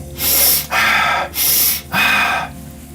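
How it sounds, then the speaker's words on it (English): Rapid, deep breaths through the mouth, four forceful bursts in about three seconds, each a loud, breathy rush of air with brief gaps between. Close and clear, with no talking. "The repetitive breathing more quickly and deeply, this kind of thing,"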